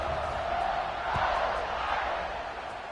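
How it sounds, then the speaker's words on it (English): A football stadium crowd roars before a kickoff, a broad sustained wash of cheering and shouting that swells slightly mid-way, with faint talk underneath. "this crowd now ready to get behind them"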